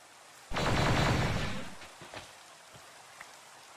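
A sudden burst of rain in a video game, a dense hissing wash that starts abruptly, holds for about a second and fades, followed by a few scattered soft taps.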